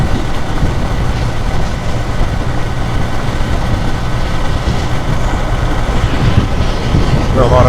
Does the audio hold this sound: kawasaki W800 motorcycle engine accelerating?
yes